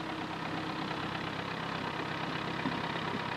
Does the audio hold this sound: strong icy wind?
no